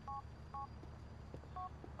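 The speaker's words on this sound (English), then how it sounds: "Dial a number with your phone." Dialing tones sound on a phone in Grand Theft Auto 4, short evenly spaced beeps heard faintly over a low background hum.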